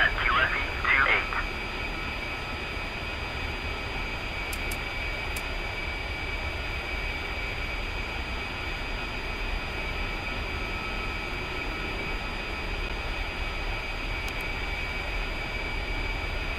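An A-10C Warthog jet in the DCS combat flight simulator spools up for takeoff, a loud, steady engine roar and rumble that fills the scene, with brief radio chatter near the start.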